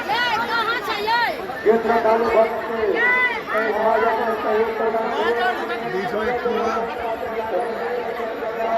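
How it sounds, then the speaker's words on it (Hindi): Dense crowd chatter at a Mahadev temple during a busy day of worship, many overlapping voices babbling close by in a long queue, with one clearer voice now and then rising above the hubbub. "लंबा भीड़ है"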